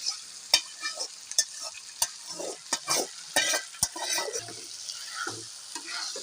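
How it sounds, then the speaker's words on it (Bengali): Boiled taro leaves are turned into frying masala for a hilsa-head greens dish, with crisp spoon scrapes and clacks against the pan over an uneven sizzle, stirred in irregular bursts. "নেড়ে চেড়ে মশলার সাথে মিশিয়ে নিই"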